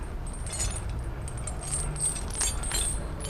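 A commercial vehicle's metal tire chain handled and folded over on itself, a close, continuous jangle of clinking links with rattles rising and falling, no speech.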